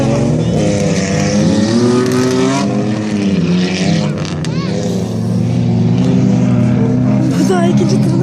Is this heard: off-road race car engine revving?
yes